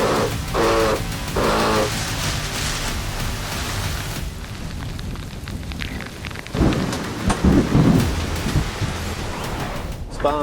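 Heavy rain pours down in a squall at sea, with rolling thunder and a broad, roaring wash of wind and water that swells and surges throughout, loud and close during the Brest Atlantiques offshore race.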